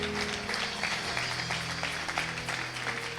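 A church congregation applauds with steady, dense clapping throughout, close and fairly loud, with no talking over it.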